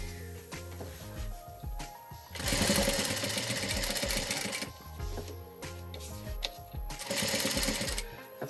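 Sewing machine stitching a garment in a boutique, running in bursts: rhythmic stitching pulses, then two longer loud continuous runs, close and dominant with no talking.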